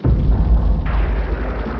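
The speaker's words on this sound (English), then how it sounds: "The thunderstorms on Jupiter are going to be generating booming thunder" A deep, heavy boom of thunder rolls out loud and close, a low rumble that swells and lingers.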